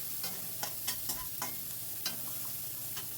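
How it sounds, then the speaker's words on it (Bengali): Chopped onion fries in a pan under constant stirring, a soft steady sizzle punctuated by quick rhythmic spatula scrapes and taps, close and fairly quiet, with no speech. "এবারে সব কিছু ভালো করে একটু ভাজা ভাজা মতো করে নেব। অনবরত কিন্তু নাড়তে হবে,"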